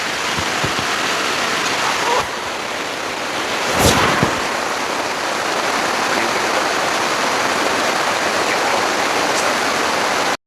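Steady, dense broadband wash of heavy typhoon rain at a campsite fills the whole stretch, with a brief louder crackle partway through and no clear talk.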